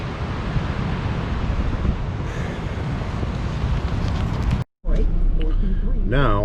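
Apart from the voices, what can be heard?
wind blowing across a lake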